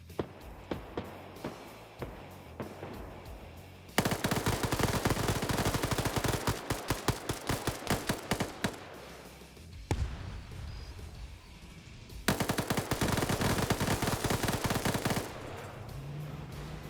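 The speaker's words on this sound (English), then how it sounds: "he's shooting up at the tank" Video game gunfire aimed at a tank, with scattered single shots followed by long dense bursts of rapid automatic fire, loud and close, broken by short pauses.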